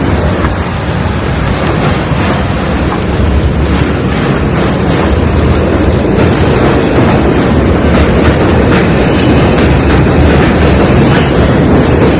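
Continuous rumble of a New York City subway train on the White Plains Road line, steady and loud throughout with rushing, wind-like noise and no talking.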